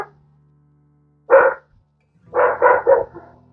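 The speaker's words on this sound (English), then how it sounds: "I'm really sorry about the dogs." Dogs bark close by indoors, one single bark followed after a pause by a quick run of three barks, loud and clear against an otherwise quiet room with a faint low hum.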